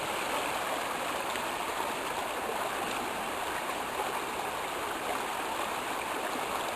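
Steady broadband rush of babbling water flowing over stones, constant and fairly loud throughout, with no voices.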